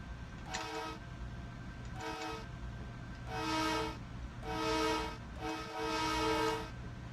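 Horn of an LIRR M3 electric commuter train in Train Sim World, sounding five loud harmonic blasts, two short then three longer, over a steady low rumble of the train.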